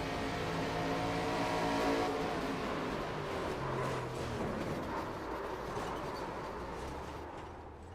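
Stock car engines roar loudly and continuously in an iRacing NASCAR race at Dover, with steady tonal engine drone and dense broadband noise as the cars run and crash, gradually fading slightly toward the end.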